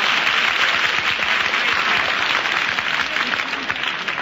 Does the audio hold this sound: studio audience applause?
yes